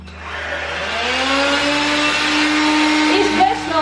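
An AEG CX7 stick vacuum cleaner runs loud and steady close by, its motor whine holding a constant high pitch with a slight rise in intensity.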